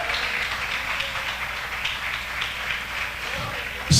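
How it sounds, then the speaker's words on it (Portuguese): A church congregation applauds during a sermon, broad steady clapping filling the room for several seconds before a sharp louder burst at the very end. "Aplausos para Jesus."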